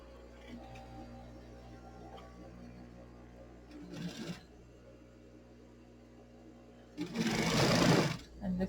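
A sewing machine stitches a folded fabric potholder strip in two short whirring bursts, a brief one and then a longer, louder run, with quiet room hum between them.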